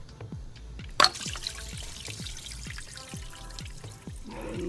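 Engine coolant dripping from a truck's thermostat housing into a catch pan, a faint, quick, regular patter of close drops with a sharper clink near the start.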